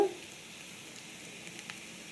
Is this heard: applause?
no